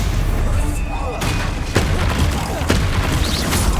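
Bombarda explosion spell in Hogwarts Legacy, a couple of sharp booming blasts over a dense rumbling battle din, with a voice casting spells.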